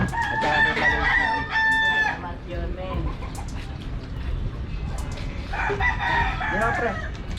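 A rooster crows at a chicken farm set up among animal pens, its strained harmonic call standing out up close at the start and again near the end, with voices and general outdoor bustle running underneath.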